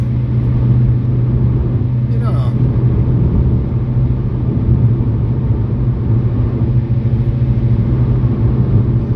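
Small Peugeot with 200,000 miles driving on the road from Preston toward Blackpool, a steady loud interior engine drone and road rumble running throughout with no letup.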